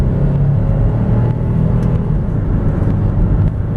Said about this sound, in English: Acceleration is quite smooth, comes on strong, feels great.